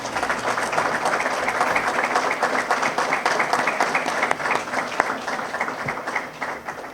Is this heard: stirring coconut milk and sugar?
no